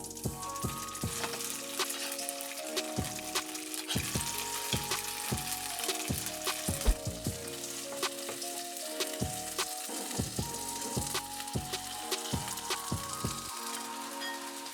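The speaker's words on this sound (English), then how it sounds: "fry the dumplings in the butter for 4-6 minutes until they are golden brown" Pierogi dumplings filled with sauerkraut frying in butter in a pan, a steady dense sizzle with crackling pops throughout, close and continuous with no voices.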